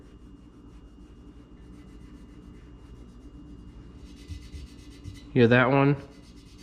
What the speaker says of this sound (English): that's just my finger rubbing up against all the cut marks